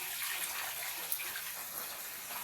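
Floodwater that has risen into a home kitchen, a faint steady trickling and gushing wash of moving water with a small splash, no voices.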